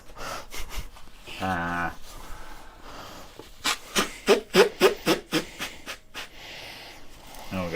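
A person blows their nose in a few short, loud, breathy bursts close to a microphone, with spoken voices before and around it.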